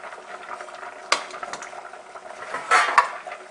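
Spaghetti being mixed with milk, flour, lemon juice and Parmesan cheese, giving continuous wet stirring and scraping with a few sharp utensil clinks against the dish, close up and steady.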